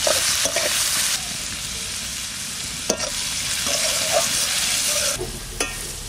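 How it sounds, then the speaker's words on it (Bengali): Onion and garlic paste fry in hot oil with a constant close sizzle, broken by scraping and tapping strokes of a spoon stirring the pan. "পেঁয়াজ ভাজা হতে হতে রসুন বাটাটাও দিয়ে দিচ্ছি"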